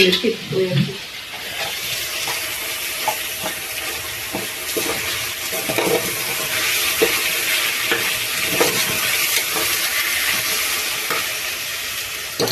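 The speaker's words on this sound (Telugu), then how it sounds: "అల్లం వెల్లుల్లి పేస్ట్ వేసుకుందాము." Ginger garlic paste frying in a pan and stirred while cooking vegetable biryani. A steady, close sizzle runs throughout with scraping stir strokes on top.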